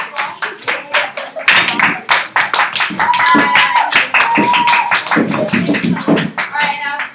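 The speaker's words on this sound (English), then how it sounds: "round of applause for Dimitri and Daniel" A classroom bursts into a round of applause, with many hands clapping in a dense, uneven patter that swells and then tapers off. Voices speak over the clapping.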